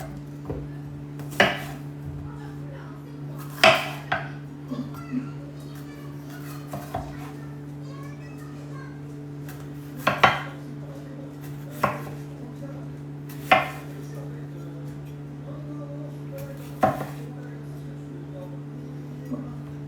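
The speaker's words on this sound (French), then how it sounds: "je vais couper des lanières de poivron pour mettre dedans" A knife chops bell pepper into strips on a board while an omelette is prepared, with sharp knocks coming every couple of seconds over a steady appliance hum and occasional faint voices.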